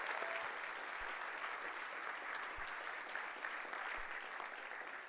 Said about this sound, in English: please, applause for her because.